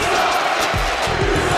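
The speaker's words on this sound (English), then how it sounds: "You can hear the crowd just letting this Blackmore have it" A wrestling arena crowd roars and jeers at Blackmore as a loud, continuous wall of noise, with a few dull thuds underneath.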